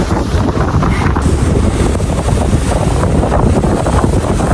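Strong, steady wind on a yacht roars and buffets the microphone continuously, with a broad rushing noise and faint water sounds beneath, no voices.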